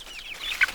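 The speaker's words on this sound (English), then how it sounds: "You see how all the other chicks are pecking at that duck?" Young chicks cheep in high, thin peeps while crowding and pecking at a duckling in a brooder, a few short chirps close and moderately loud with no talking.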